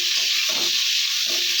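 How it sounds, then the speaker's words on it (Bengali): Onions dropped into a hot frying pan over earlier fried ingredients, giving a steady loud sizzle and hiss with faint stirring scrapes, close up and without speech. "তাই এই ভাজার ওপরেই পেঁয়াজগুলোও ছেড়ে দিলাম।"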